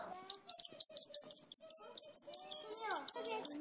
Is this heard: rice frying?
no